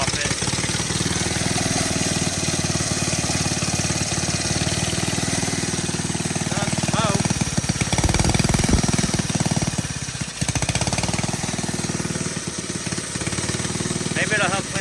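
A vintage Briggs and Stratton engine runs steadily and loud with a rapid, slightly rough chugging, and a voice talks intermittently over it.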